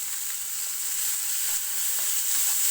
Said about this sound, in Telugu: చక్కగా ఫ్రై అయ్యేలా చూడండి